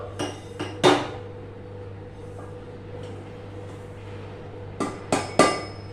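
Roasted ingredients pounded in a mortar and pestle, several sharp, clanging metallic strikes clustered at the start and again near the end, with a quiet steady hum between.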